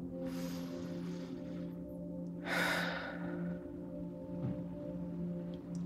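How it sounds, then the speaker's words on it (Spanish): During a guided breathing exercise, a person takes one deep audible inhale and exhale, soft and close, over a faint steady background hum, with no talk. "Vas a tomar una respiración profunda."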